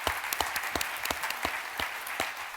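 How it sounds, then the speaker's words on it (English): A breakfast audience at the Denver Startup Week kickoff applauds in a lively, close burst of clapping, with individual sharp claps standing out against the steady patter. "Yes, huge round of applause."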